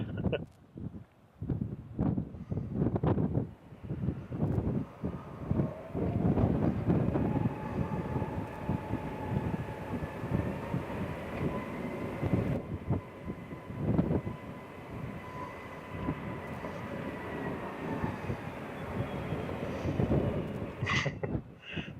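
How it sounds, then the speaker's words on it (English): A Boeing 757 jet roars loudly at Fuerteventura Airport, a sustained heavy engine rumble that builds and holds for the whole stretch, with a few voices speaking over it. "That 757's loud."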